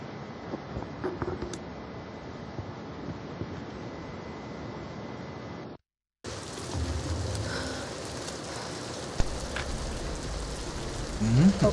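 Steady heavy rain pours through a stormy scene in the video game Tomb Raider, a continuous hiss with a brief dropout midway, then resuming with faint rumbles and a few sharper knocks.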